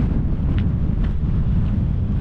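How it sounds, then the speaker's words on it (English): Strong wind buffets the microphone in a steady, loud low roar on the Inner Hebridean island of Gigha, off the coast of Scotland, with no talk heard. "The wind's not as bad as I expected it to be"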